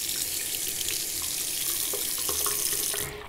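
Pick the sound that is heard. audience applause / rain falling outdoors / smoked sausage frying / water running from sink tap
water running from sink tap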